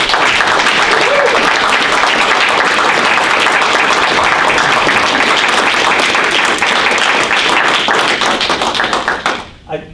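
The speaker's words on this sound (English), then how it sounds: "how about we give Dave a round of applause?" Loud, dense applause from a board meeting audience for Dave at a District 207 session, sustained and even for most of the stretch before tapering off abruptly at the end.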